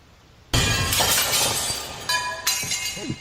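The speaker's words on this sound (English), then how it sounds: "there'd be a smashing glass sound" A glass smashing sound effect: one sudden loud crash followed by scattering, tinkling shards that fade, with a couple of smaller clinks toward the end and no talking.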